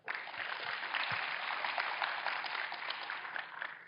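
An audience claps at the Springboard Capital 10th anniversary event, a sustained wash of applause from many hands, steady and somewhat distant for about four seconds.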